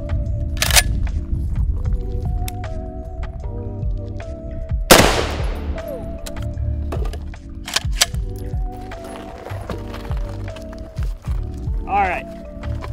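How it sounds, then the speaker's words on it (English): A SCAR rifle fires standard .308 FMJ rounds at Hesco body armor from about seven yards outdoors. Two sharp, loud cracks ring out, an early one and a heavier shot midway, with voices talking around them. "Let's hit it with the scar. All right, this is just standard 308 FMJ."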